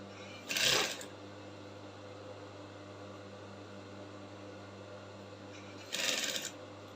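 A sewing machine stitches a bustier's illusion yoke into the neckline in two brief bursts several seconds apart, quiet against a steady low room hum.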